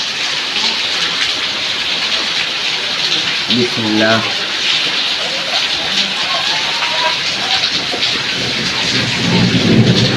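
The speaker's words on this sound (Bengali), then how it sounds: "আজকে অনেক বৃষ্টি হচ্ছে" Heavy rain pours outside with rumbling thunder, a loud continuous downpour and low rolls of thunder, while a person speaks briefly indoors.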